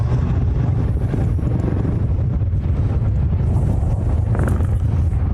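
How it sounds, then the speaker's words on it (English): Steady, heavy wind buffeting a microphone at an outdoor planespotting spot in Hawaii, a constant low rumbling roar that stays loud and unbroken throughout with no voices. "Wind is definitely picking up."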